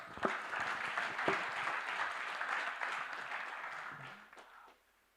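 Crowd applause at a nursing and midwifery quiz opening at Bishop Stuart University, many hands clapping in a fairly faint, even wash that fades out in the last second.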